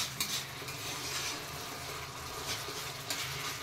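Sauce lightly frying in a pan while fried rice is being made, a steady broadband sizzle with scraping stirring noises and a few soft utensil knocks close by.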